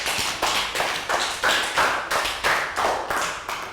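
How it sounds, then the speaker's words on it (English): Applause comes as a group clapping together in a steady, even rhythm, about a dozen claps, close and moderately loud. "Round of applause for Lakau."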